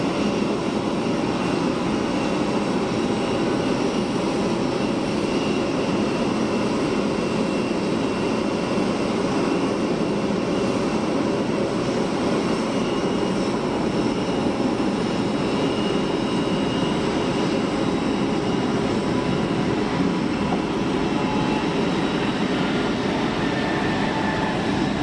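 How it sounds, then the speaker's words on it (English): A modern aircraft at Geneva Airport produces a steady, continuous broadband engine roar that holds at an even level throughout, with no voices. "So quiet, modern aircraft, aren't they? So quiet."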